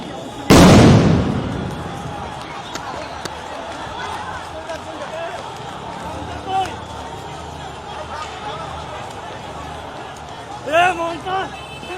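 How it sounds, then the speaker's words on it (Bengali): Law enforcement throw a sound grenade into the middle of Shahbag square during a street protest. It goes off as one sharp, very loud bang near the start, followed by a quieter stretch of crowd noise with voices. "শাহবাগ চত্বরের ঠিক মাঝে আমরা লক্ষ্য করেছি একটি সাউন্ড গ্রেনেড ইতিমধ্যে নিক্ষেপ করেছে আইন শৃঙ্খলা রক্ষাকারী বাহিনী"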